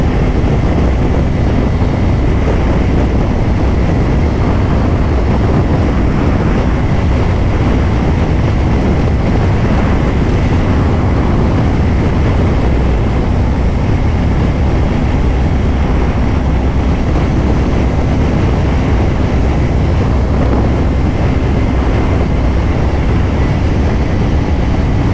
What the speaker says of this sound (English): Oh, that wind is fucking gnarly, bro.